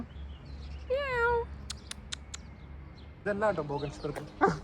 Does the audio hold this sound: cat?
yes